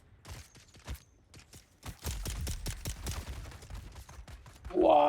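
Machine gun fire in the video game Dune Awakening, heard as bursts of sharp, rapid shots that build into dense, sustained fire, close and loud, ending with a brief tonal game sound.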